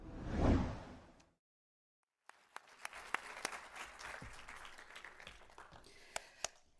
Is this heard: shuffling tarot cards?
no